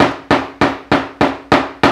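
A hammer strikes paper laid over a flower to press a stamped print, seven sharp, evenly spaced blows in quick succession, loud and close with no talking.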